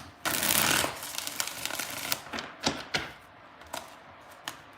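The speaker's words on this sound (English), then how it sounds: "let's get 4 shuffles." A deck of reading cards being shuffled: one long, loud riffling burst, then a run of softer, irregular flicks and taps as the cards are cut and shuffled again, close by with no talking.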